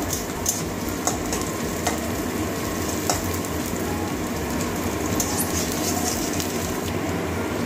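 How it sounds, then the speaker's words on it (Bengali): Crushed garlic and onion fry in a pan, making a dense, continuous sizzle that stays loud and steady throughout, close by, with faint occasional clicks and no talking. "পেঁয়াজ রসুন সব ভাজা হয়ে গেছে।"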